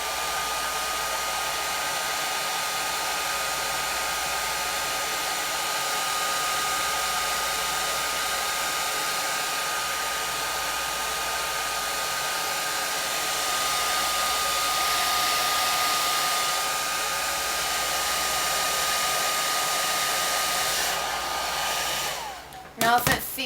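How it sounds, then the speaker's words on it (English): A hair dryer blows steadily at close range on a wig with a constant whirring roar, then switches off near the end. "And then you can use the blow dryer to push it back into place."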